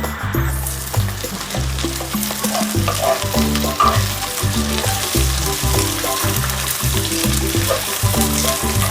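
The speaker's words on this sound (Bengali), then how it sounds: "একটু ভাজা ভাজা হলেই এটাকে উঠিয়ে রাখবো" Potato pieces frying in oil for chicken pulao, a loud, dense, continuous sizzle close up with rhythmic stirring thumps and scrapes throughout.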